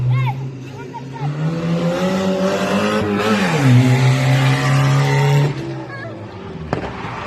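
A quad bike engine drones loudly and steadily on a mini-ramp at a monster truck show, its pitch climbing then dropping as it revs, with a sharp bang near the end.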